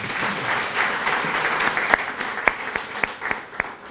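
Applause from an audience at a Riara University graduation ceremony, a steady dense patter of many hands, with a few louder individual claps standing out near the end.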